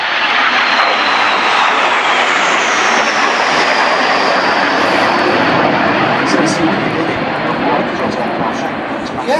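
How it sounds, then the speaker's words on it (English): Saab 105 and Saab J-29 Tunnan jets pass low and fast from left to right at an air display, a loud, sustained roar of jet engines filling the whole stretch with a slowly shifting whine, and a commentator talks over it. "here these two aircraft come, left to right, good and fast here,"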